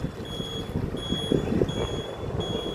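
Road traffic on a tree-lined street leading to a Ganesh temple, a steady hum of passing vehicles with a faint high-pitched beeping tone running through it, no talking.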